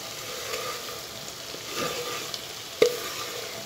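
Steady, soft sizzling of chopped onions frying in a pan, with a brief louder clatter near the end.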